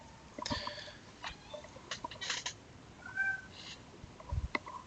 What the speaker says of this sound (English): there's a cat meowing somewhere